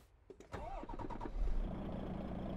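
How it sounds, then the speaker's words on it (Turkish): A truck engine starts up inside Euro Truck Simulator 2: a brief starter crank with a few sharp clicks, then the engine catches into a low, steady idle rumble that continues to the end. "Ve aracımızı şu şekilde bir çalıştıralım."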